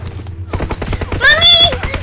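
Automatic gunfire in the battle royale shooter PUBG Mobile, a rapid rattle of close shots under excited voices and shouting.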